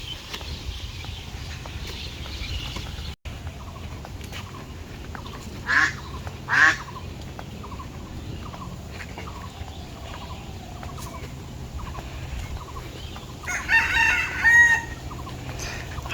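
Ducks quack in a few short bursts near the fields around the paddy, faint and intermittent against a steady outdoor hum, with a louder cluster of calls toward the end.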